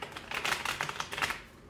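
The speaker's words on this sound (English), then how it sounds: "I'm going to do one more shuffle" Tarot cards being shuffled, a quick run of crisp papery riffling bursts that rise and fall over under two seconds, close and fairly soft with no voice.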